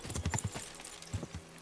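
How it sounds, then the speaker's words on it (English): A horse's hooves clip-clop along a path in Kingdom Come: Deliverance II, a quick run of close, crisp beats followed by a pause and a few more steps, with no voices. "Horse is trying very hard to stay on the path"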